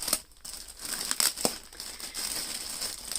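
Crinkly plastic packaging is handled and opened close up, a steady dense crackling rustle with a few sharper crinkles and tearing bursts, heard alone without speech.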